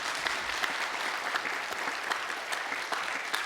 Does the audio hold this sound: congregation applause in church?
yes